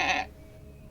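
Goats some distance away give a single short bleat that cuts off quickly, followed by quiet.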